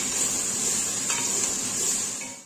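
Carrot, zucchini and pepper sauté in a pan after onions, a steady close sizzle with light stirring and the odd clink of a utensil against the pan.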